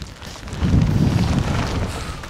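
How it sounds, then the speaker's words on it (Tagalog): Strong gusting wind on a solo mountain hike up Bukhansan toward Baegundae Peak in Korea, a rough roaring rush that swells abruptly and buffets close to the microphone, with no voices. "Grabe lakas ng hangin."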